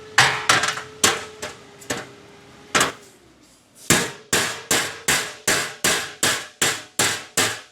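A planishing hammer strikes a sheet metal panel being sanded with 80 grit, giving sharp metallic blows close up, first irregular, then a steady, evenly spaced run of hits, with no voices.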